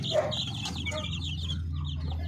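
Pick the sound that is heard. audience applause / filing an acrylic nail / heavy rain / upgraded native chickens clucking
upgraded native chickens clucking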